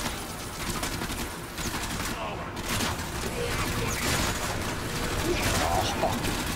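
Rapid gunfire in the shooter Warframe rattles continuously as a dense, steady barrage with a sharp burst midway, while a voice talks over the fighting.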